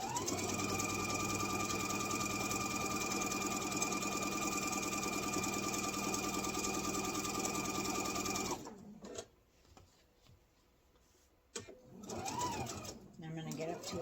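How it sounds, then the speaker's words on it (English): A sewing machine stitches fabric for a Kitchen Prints apron up to a corner, running in a loud, steady whir for about eight seconds before stopping, followed by quieter handling sounds and a brief restart. "I'm going to sew up to the next corner"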